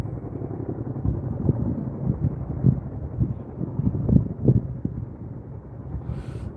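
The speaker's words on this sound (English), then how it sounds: "CH-47 is coming right to left." A CH-47 Chinook helicopter passes from right to left over the Line Fire wildfire near Big Bear, heard as a low, pulsing rotor rumble with uneven thumps through steady wind noise.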